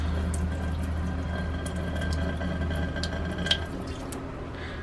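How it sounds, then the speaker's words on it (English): On-demand pumped water tap filling a glass, a steady low pump hum with a quiet running-water trickle and faint drips over it. "I want a glass of water, fill up my teapot, which I did this morning to make some coffee."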